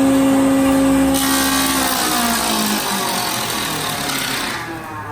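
A 3-phase, 5 horsepower thickness planer coasting after being switched off, its loud motor whine sliding steadily down in pitch as it keeps spinning and slowly fades.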